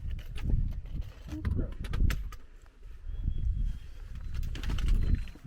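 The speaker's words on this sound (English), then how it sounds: "I do kind of wonder if people can hear those birds in the background" Birds call in the Adirondack mountains during a hike, faint chirps and coos in the background beneath close conversation, footsteps and occasional wind noise.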